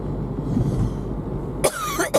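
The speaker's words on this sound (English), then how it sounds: "Now my cough is starting up." A few sharp, hoarse coughs burst out near the end, each short and close, following a stretch of low indoor rumble.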